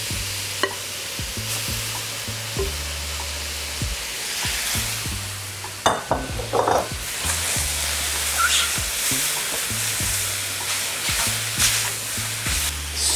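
Lo mein noodles stir-fried with vegetables in a hot wok, a steady sizzle with repeated scraping and tossing clatters of the utensil, close and fairly loud, with no talking.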